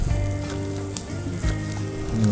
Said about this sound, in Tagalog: while we're waiting for the fish to cook